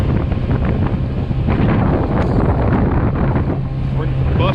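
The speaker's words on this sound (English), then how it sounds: "That little Honda does not joke around, man. Rough seas or not, it's going." Honda 50cc outboard on a custom-built mount pushing a Crescent K-Craft stand-up paddleboard through rough water, a steady close engine drone mixed with heavy wind buffeting and splashing water throughout.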